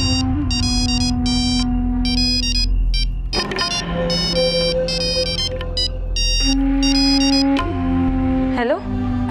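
A phone ringtone plays in repeated bursts of bright electronic tones, loud and close, while a background tune or low sounds continue underneath.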